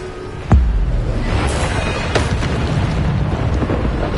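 Bombarda spell explosions in the Hogwarts Legacy video game: a sharp loud blast, then further booming bursts and crackling rumble amid continuous battle noise.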